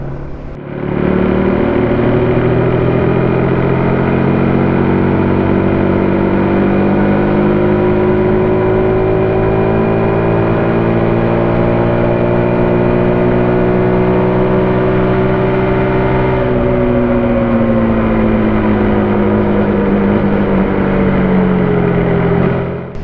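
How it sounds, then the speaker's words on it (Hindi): A Bajaj NS200 motorcycle rolls on the throttle in 6th gear toward about 100 km/h after a fixed pickup problem. Its engine drones loudly and continuously, pitch climbing steadily, then eases slightly near the end. "अब देखो अपन 6th गियर में है तो ट्राई करते हैं रोल ऑन करने का 100 के करीब"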